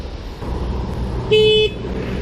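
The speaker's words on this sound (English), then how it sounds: "There's the horn." Horn of a Surron Light Bee electric dirt bike on a steep trail, one short steady toot lasting about a third of a second, loud over a constant rushing wind and riding noise.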